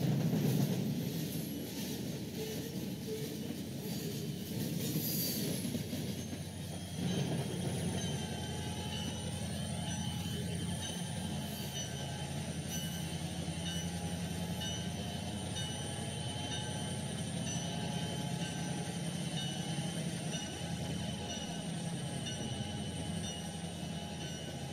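A freight train hauling tank cars and box cars rumbles steadily in the Trainz 12 railroad simulator, a continuous engine drone with wheel noise and occasional squeals, heard alone at a constant moderate level.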